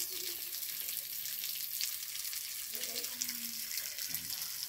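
A steady hiss of running water from a shower spraying continues throughout, with faint voices briefly underneath.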